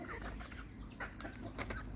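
Bantam chickens cluck and chatter in a farmyard, with soft irregular calls and occasional louder clucks over a low, noisy outdoor background.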